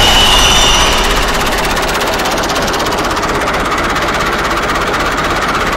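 A tractor engine runs close by at a steady idle, a loud, continuous rumbling drone with a slightly stronger burst at the very start and no voices over it.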